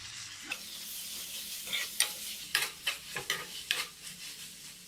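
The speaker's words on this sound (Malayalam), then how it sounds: "തക്കാളി ആഡ് ചെയ്തതിന് ശേഷം നന്നായിട്ട് എല്ലാം കൂടെ ഒന്ന് ചേർത്ത് ഇളക്കി കൊടുക്കാം" Tomato is stirred into an egg masala gravy in a pan, with a run of quick spoon scrapes and taps over a steady frying sizzle.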